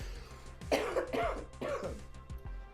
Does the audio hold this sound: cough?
yes